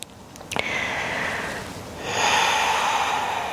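Deep breathing held during a vinyasa yoga pose, with a quick sniff near the start and then a long, steady breath, close and soft, with no talking.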